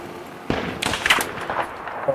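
Distant gunfire in a Battlefield 3 Reality Mod battle on a modified Sharqi Peninsula map, a few faint sharp cracks and pops spread over about two seconds against low ambient background noise.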